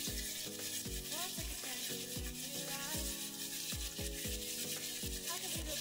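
Chopped onion fries in a little oil with a dash of vinegar, a soft continuous sizzle running beneath louder rhythmic background music.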